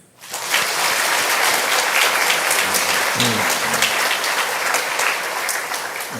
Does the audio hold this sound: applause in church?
yes